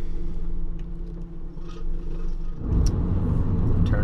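A car rolling along a rough, bumpy residential street, a heavy low rumble and engine hum close up, with road noise turning coarser and thumpier partway through as the tires hit uneven pavement.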